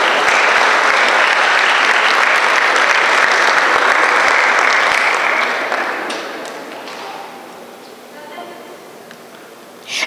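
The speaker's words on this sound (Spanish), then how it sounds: "pido un fuerte aplauso" Loud, dense applause from the audience at a water sustainability forum in Quintana Roo rolls on for several seconds, then fades to thinner clapping and murmur, with a voice starting at the very end.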